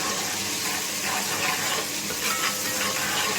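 Onions and turmeric fry in leftover oil in a pan while koftay are being made, giving a steady, dense sizzle and bubbling hiss that stays loud and even with no talk.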